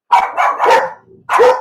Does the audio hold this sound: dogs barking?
yes